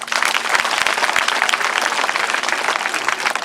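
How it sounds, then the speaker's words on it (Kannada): Government school children at a classroom demonstration clap loudly together, a close, dense, continuous burst of many small hands. "ಜೋರಾಗಿ ಚಪ್ಪಾಳೆ ತಟ್ಟಿ."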